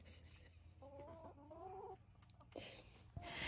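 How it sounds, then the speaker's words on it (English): Backyard coop chickens clucking in a short burst of several repeated, slightly rising calls, fairly close, over a steady low hum, with a sharper cluck near the end. "They're my first set of chickens."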